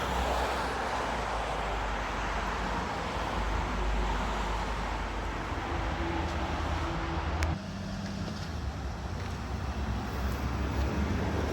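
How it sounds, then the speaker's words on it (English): A steady rumble of road traffic, cars passing nearby in a continuous broadband wash, moderately loud with no voices. "There's a lot of traffic going around right now."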